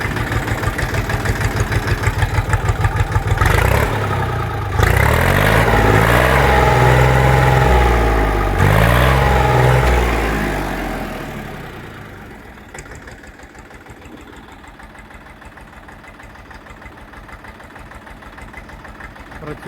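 A tractor engine runs steadily and loudly up close, its pitch rising and falling as it revs, then dropping to a quieter idle toward the end.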